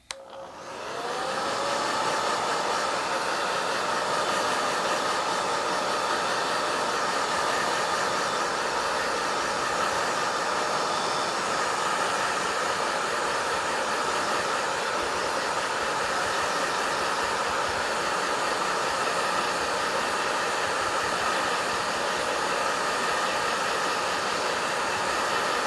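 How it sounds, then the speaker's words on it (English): A Babyliss blow dryer whirs on and runs continuously with a steady, loud rushing hiss and motor whine, close by and uninterrupted. "I'm gonna use my Babyliss blow dryer."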